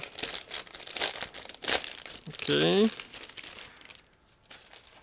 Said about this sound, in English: it's a resealable plastic bag, so I will open it right now